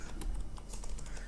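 Keys clatter steadily as text is typed on a computer keyboard while working in Microsoft Word, a quick, close run of light clicks over a faint low hum.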